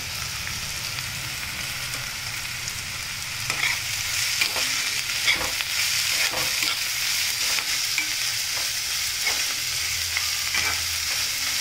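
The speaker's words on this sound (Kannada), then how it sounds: "ಆವಾಗ ನಾನು ಈ ಕ್ಯಾಪ್ಸಿಕಮ್ ಹಾಕ್ತಾಯಿದ್ದೀನಿ" Capsicum and onions sizzle as they are stir-fried in a pan for veg spring rolls, a steady close frying hiss with intermittent spatula scrapes and stirring clicks growing slightly louder, no talk.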